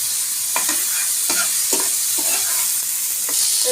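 Thin chicken breast slices stir-fry in a hot pan, a continuous sizzle broken by repeated scraping and clattering strokes of a spatula at an uneven rhythm, up close.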